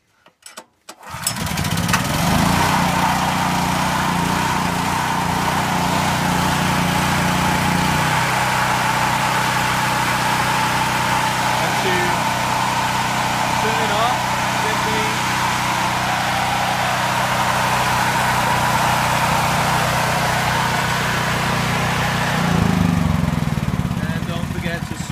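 A Generac GP6500 gas-powered portable generator catches after a pull start and settles into a loud, steady engine drone that runs continuously up close.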